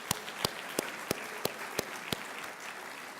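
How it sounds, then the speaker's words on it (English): At a tribute celebration, sharp, evenly spaced claps ring out about three times a second over a low murmur of background noise. "So let's give him another round of applause."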